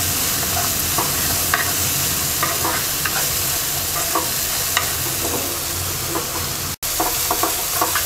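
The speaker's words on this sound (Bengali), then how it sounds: "এবার মশলাটা কিছুক্ষণ কষিয়ে নেব।" Spices frying with slit green chillies and salt in a pan for hilsa fish curry, steady loud sizzle with intermittent scraping stirs, close up, a brief dropout near the end.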